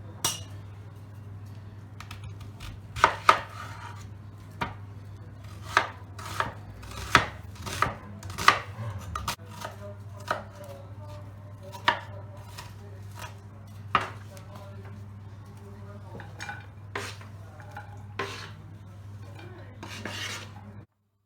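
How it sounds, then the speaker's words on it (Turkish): A knife chops onions on a cutting board in sharp, irregular strokes, some quick bursts and some spaced out, over a steady low hum. "Şimdi soğanlarımızı e, doğramakla başlayalım."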